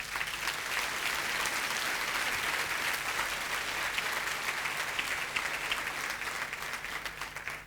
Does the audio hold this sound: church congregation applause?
yes